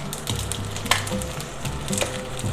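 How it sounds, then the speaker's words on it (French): An egg fries sunny-side up in a pan, with a continuous close sizzle dotted by crackling pops and spits throughout. "Et là voilà, le petit œuf sur plat."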